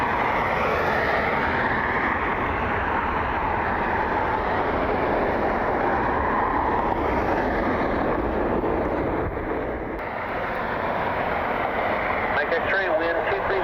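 Airliner taking off from runway 24 left at Cleveland Hopkins airport: a steady, loud, broadband engine roar that holds throughout, with faint radio chatter beneath it.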